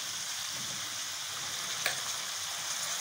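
Fried rice sizzles steadily in a hot pan as soy sauce is added, a dense close hiss with one brief, sharper burst partway through.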